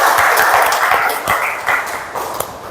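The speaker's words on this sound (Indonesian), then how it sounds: "Aplaus dulu untuk Daniel." A classroom audience clapping for Daniel at an academic coaching session, a dense close burst of applause that slowly thins and fades over a few seconds.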